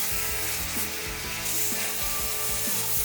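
Steady rubbing and scrubbing of soapy foam across a car body, a close, continuous swishing wash with rhythmic strokes and no voices.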